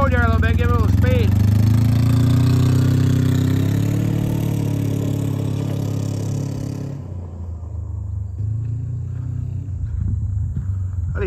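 A John Deere 590E XUV utility vehicle accelerates away up a road, its engine revving loud and near, then fading into the distance. Someone speaks briefly at the start.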